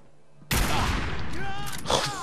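A single powerful sniper rifle shot fired from the hip in Fallout 4 sounds sudden and loud after near quiet, trailing into a long ringing decay with a pained groan and a second impact toward the end.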